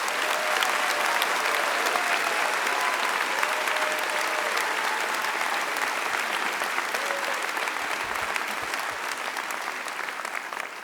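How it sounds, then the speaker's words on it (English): Thunderous applause from a large commencement crowd at an economics undergraduate graduation, loud and sustained dense clapping that fills the whole stretch without letting up. "I think these people deserve a thunderous ovation."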